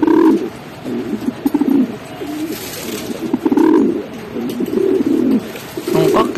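Pigeons cooing during a pigeon mating toss in Cabanatuan, Nueva Ecija: repeated low throaty coos in rolling bursts from several birds, fairly close, continuing throughout with no talk.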